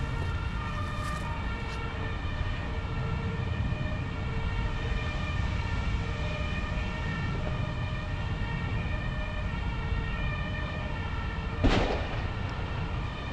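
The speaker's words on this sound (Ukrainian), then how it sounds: "Вже їде пожежна." A distant fire engine siren wails steadily beneath a low rumbling background, with a brief sharp noise near the end.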